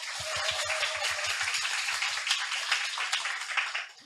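An audience applauds after a lecture, with a few distinct, rhythmic claps standing out close by over a broader, moderate patter of many hands that carries on for several seconds.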